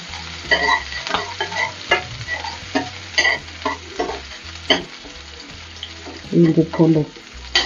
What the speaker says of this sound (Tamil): இஞ்சி பூண்டு வதங்கிடுச்சு.